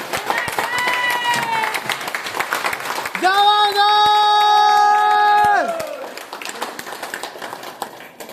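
A seminar audience rises for loud applause at the end of a success-tips training session. Clapping and crowd noise fill the whole stretch, and sustained tonal voices or cheers swell in the middle before easing back.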